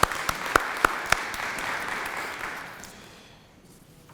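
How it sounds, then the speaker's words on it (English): Audience applause at a lunchtime talk, a few sharp early claps leading into a dense round of clapping that gradually fades out. "can we have a round of applause for our sponsor for today's talk"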